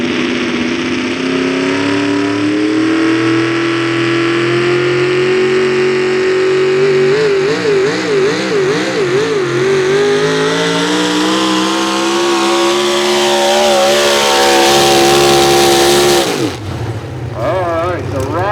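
Pulling truck with a big Steve Schmidt engine at a Boonsboro truck pulling event, loudly revving and climbing in pitch with a wavering roar, then cutting off abruptly near the end.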